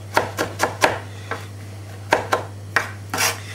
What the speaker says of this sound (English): So we're just going to keep going here for the moment and chopping parsley out so.